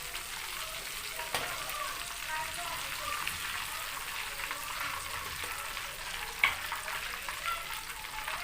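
Homemade KFC-style chicken hot wings fry in oil with a soft, steady sizzling hiss and occasional small pops, fairly quiet and close.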